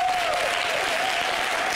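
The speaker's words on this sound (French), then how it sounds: "On va applaudir" Brief burst of audience clapping at a live talk show, a dense close patter throughout, with a faint steady tone running beneath it.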